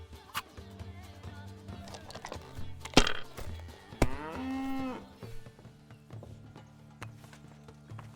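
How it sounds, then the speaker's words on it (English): A cow in the video game Kingdom Come: Deliverance 2 lets out one drawn-out, fairly close moo amid faint background game sounds and some hoof clops. "That cow is cheering you on."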